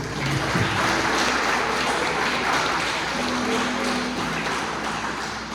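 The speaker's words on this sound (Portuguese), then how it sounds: "Se você pode dar uma salva de palmas ao Senhor" A church congregation gives the Lord a round of applause, loud and continuous clapping from many people filling the room, with a faint sustained tone underneath.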